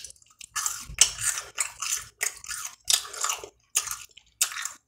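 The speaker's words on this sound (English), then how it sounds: "There's something about that crunch." Crunchy fried fast food bitten and chewed close to the mic, loud crisp crunches in uneven bursts with short pauses between bites, no talking.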